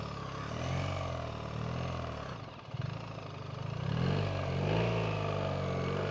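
A BMW R1300GS motorcycle ridden off road down steep ground, its engine rumbling and rising in a couple of revving surges with a short dip between them, moderately close, with no talk over it.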